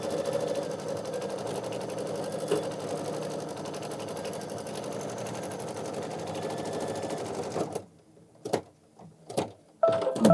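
Embroidery machine stitching a Kimberbell mug rug design, a rapid, steady mechanical chatter running continuously for about eight seconds, then stopping, followed by a few scattered handling knocks.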